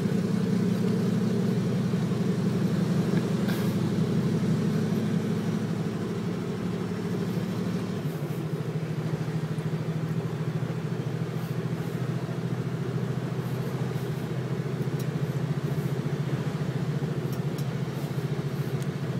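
Hino 700 truck running on NGV, its engine droning steadily while driving, a continuous low rumble heard from inside the cab with a slight drop in pitch partway through.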